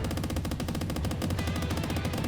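Rapid gunfire from a squirrel's gun in the video game Squirrel with a Gun, a dense, steady stream of shots repeating quickly and loudly with no pauses.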